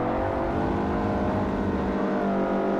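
A Toyota Yaris S race car engine in Forza Motorsport 4 drones steadily at high revs, loud and close, with other cars buzzing nearby through the stretch.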